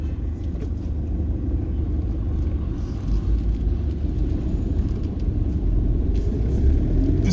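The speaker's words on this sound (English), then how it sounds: "And obviously the truck traffic is just" Heavy truck traffic on an industrial road in coastal Gujarat, India, rumbles as a continuous, loud, low engine drone, with vehicles swelling slightly as they pass close by.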